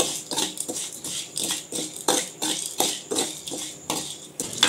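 Cloves and black pepper frying in oil in a wok, heard as a run of crackling, clattering bursts that rise and fall at a steady pace, with no talk.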